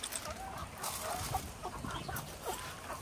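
Chickens on a Filipino farm cluck in a busy, overlapping chorus close by, the calls steady over three seconds amid faint rustling outdoor noise.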